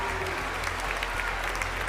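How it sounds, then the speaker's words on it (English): An audience at a live singing competition grand finale in London applauds steadily, with dense even clapping over a low music or room hum. "Round of applause."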